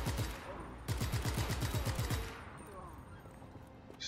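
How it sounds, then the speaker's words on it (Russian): Rapid machine gun fire from the video game Just Cause 3, a dense burst of repeated shots for about two seconds that then gives way to fainter game ambience. "Так, пулемет, мой пулемет."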